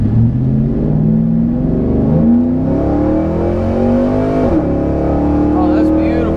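A Chevrolet Trailblazer SS with a rebuilt performance transmission accelerates hard, its engine note climbing in pitch, dropping sharply at a gear shift and then rising again, loud and close.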